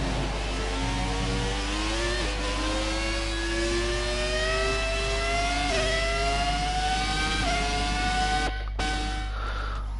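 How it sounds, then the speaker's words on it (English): A racing car engine in a sim racing game with no driving assists revs and holds throttle, its steady whine rising in pitch through gears with brief lifts and a short cut near the end, loud and close. "try to hear the throttle, how I am adjusting it"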